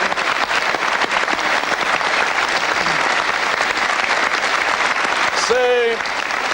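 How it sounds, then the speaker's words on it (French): A studio audience applauds a contest winner on a 1995 French TV variety show, dense sustained clapping that fills the room, with a brief voice rising near the end. "vous allez l'applaudir"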